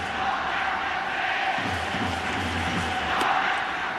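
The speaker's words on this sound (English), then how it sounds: "The cheering in the right field bleachers right now" A baseball crowd in the right field bleachers during a New York Yankees versus Yomiuri Giants game, steady massed cheering and chanting as a broad distant roar with a slight swell, no pauses.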